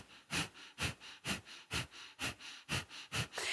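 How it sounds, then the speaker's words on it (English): Sharp, forceful exhalations from a belly-pumping breathing exercise repeat eight times in a steady, quick rhythm, close and clear, with no talking. "firing up through the belly, a nice sharp breath on the exhale"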